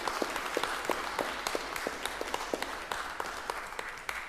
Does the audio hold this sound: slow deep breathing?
no